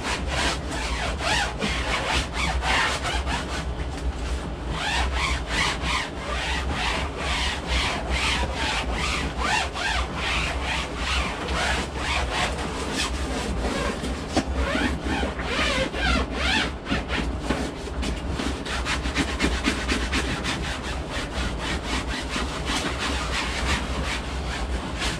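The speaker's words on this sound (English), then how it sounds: "So I'll just give it a good wipe." A cloth rubs steadily over mylar-type tent lining, making a continuous close scratchy swishing with rhythmic strokes that carry on throughout without a break.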